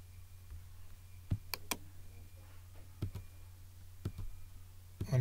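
Keys are pressed on a computer keyboard in a quiet room, giving a few sharp, isolated clicks spaced out over several seconds, with some coming in quick pairs.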